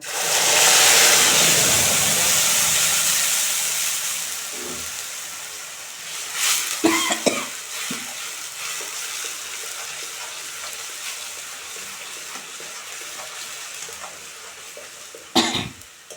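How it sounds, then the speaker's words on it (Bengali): Green chili, garlic, ginger and onion paste drops into hot oil for chicken roast, a loud bright hiss that slowly fades, followed by a few sharp clatters of utensils. "আর এখানে কাঁচা লঙ্কা রসুন আদা পেঁয়াজ বাটা দিয়ে দিলাম"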